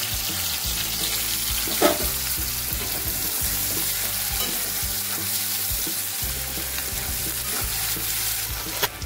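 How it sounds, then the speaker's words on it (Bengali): Onions and cumin seeds frying in oil in a kadai, browning toward red for a spicy snail curry; a steady close sizzle with intermittent stirring scrapes runs throughout, no voices. "পেঁয়াজটা লাল লাল ভাজা হয়ে গেছে"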